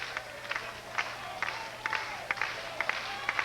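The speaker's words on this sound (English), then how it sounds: "And the claps begin." Scattered crowd clapping at a 1992 Hawaii versus San Diego State college baseball game, sharp hand claps popping in a loose, uneven rhythm over a low ambient hum of the stadium.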